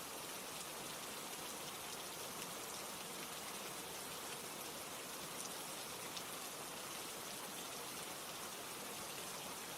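Steady rain falls evenly and faintly, a soft continuous hiss of drops on surfaces with no change in intensity and no voices.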